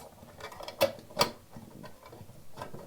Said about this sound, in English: Now I'm going to take my screwdriver and not tighten these down all the way.